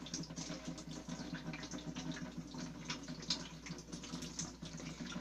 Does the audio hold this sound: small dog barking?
no